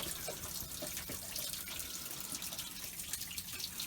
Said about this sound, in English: you'll see all the water that was last cooling the engine. So we're going to let that drain out completely.